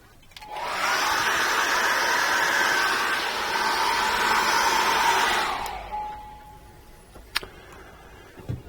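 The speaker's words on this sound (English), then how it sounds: "I'm going to dry that off again with a hairdryer." A hairdryer blows steadily on acrylic paint for about five seconds with a loud continuous whoosh, then winds down, followed by faint clicks.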